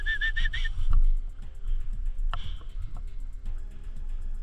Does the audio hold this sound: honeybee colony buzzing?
no